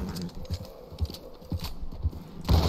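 Horse hooves clip-clopping in the Western video game Red Dead Redemption 2, a quick irregular run of close thuds with a louder burst at the end.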